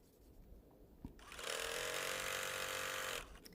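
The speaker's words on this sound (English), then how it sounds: "I'll just bring you along as I stitch some of this binding down." Sewing machine stitching binding down on a quilt: after a quiet start with a single tap, a steady whirring run lasts about two seconds and then stops.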